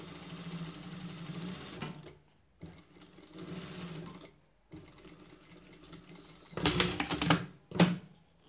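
Sewing machine stitching fabric with the presser foot running along one edge, in steady bursts of close, rapid mechanical whirring separated by short pauses, ending with a couple of louder, sharper bursts.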